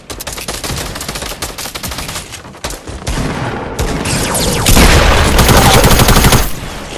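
Gunfire in the video game Fortnite: dense, loud, continuous volleys of shots close by, growing heavier toward the end, with no talk.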